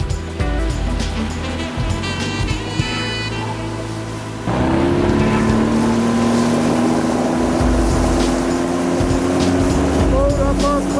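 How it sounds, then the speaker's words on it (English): A Golden Line G340EF inflatable RIB with a 20HP outboard carries two people as it gets up on plane; the motor's drone jumps louder partway through, then holds a strong, rising whine over rushing water. "This is how easy the boat planes with 2 people on board."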